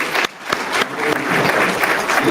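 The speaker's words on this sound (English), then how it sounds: "Everybody, give a hand clap to Dr. Bashir." Audience clapping for Dr. Bashir at a music and life event, a short burst of moderately loud, dense applause with a brief dip near the start.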